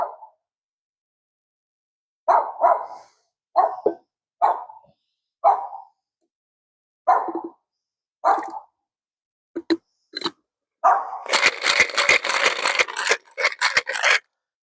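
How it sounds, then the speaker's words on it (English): A dog barks in short, loud, nearby bursts spaced about a second apart, then breaks into a rapid cluster of barks mixed with scraping and rubbing noises near the end. No one speaks. "Go away, dog."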